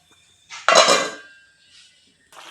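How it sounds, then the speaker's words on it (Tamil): A ceramic plate clatters down as a lid onto a metal pot of simmering eggplant curry with a bright clink that rings briefly and fades, followed by a softer scrape. "தட்டு போட்டு மூடிடலாம்."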